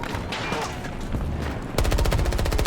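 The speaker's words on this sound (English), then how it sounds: "As I try to laser someone across the map with a submachine gun" In Battlefield 2042, distant gunfire crackles briefly, then a submachine gun opens up in sustained rapid automatic fire, close and loud, with evenly spaced shots running to the end.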